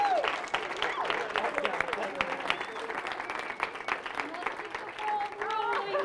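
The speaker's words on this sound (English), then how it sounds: "he definitely deserves another round of applause" An audience at a last lecture by Dr. John Ludlum claps in steady, dense applause throughout, with some voices and cheers mixed in.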